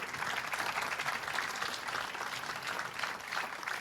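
A comedy-show audience applauds steadily, a dense wash of clapping hands that holds at even strength throughout.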